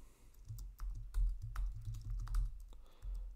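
Rust code being typed on a computer keyboard, a quiet steady patter of keystrokes with no voice.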